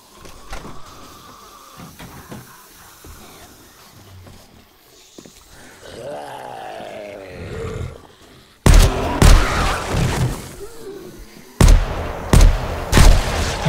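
Gunfire in the survival video game 7 Days to Die, with loud sharp shots in bursts after a quieter stretch of game ambience, including a cluster of rapid cracks and a later pair of blasts.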